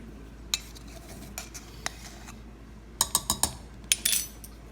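A fork whisks baking powder into gluten-free flour in a bowl. Soft scattered taps come first, then a quick run of sharp metallic clinks against the bowl near the end, close up over quiet background, no speech.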